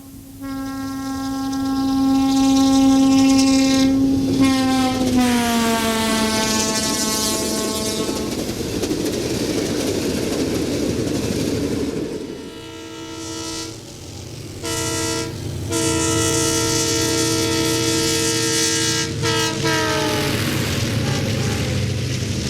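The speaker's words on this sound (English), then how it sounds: "The North Coast Hiawatha plows through Brookfield in the winter of '72." Amtrak North Coast Hiawatha passenger train rolling through Brookfield, Wisconsin in winter, its loud multi-tone horn sounding long blasts that bend in pitch as it passes, then a further series of horn calls over the roar of the moving train.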